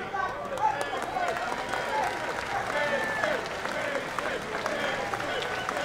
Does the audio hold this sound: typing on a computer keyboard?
no